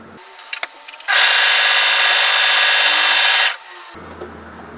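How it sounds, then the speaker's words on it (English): An overlocker serges the curved neck edge of a bodysuit in one continuous, steady mechanical whir. It runs loud and close for about two and a half seconds, with quiet handling noises before and after. "So what I'm going to do is overlock that curve"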